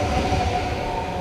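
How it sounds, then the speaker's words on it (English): A loud train passes close by, a steady heavy rumble with a sustained metallic rail hum that holds at nearly constant level throughout. "That was a loud train."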